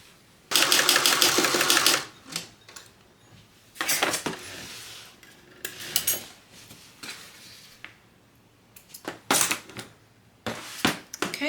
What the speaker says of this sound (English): now we're going to sew this entire side at 3/8 of an inch seam allowance